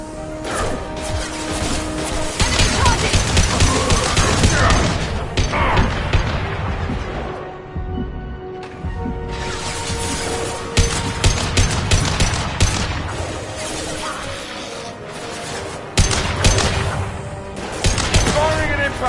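Gunfire in the Mass Effect: Legendary Edition video game, rapid loud bursts and impacts crashing almost continuously, with a brief lull midway, mixed with shouted combat voices and game sounds.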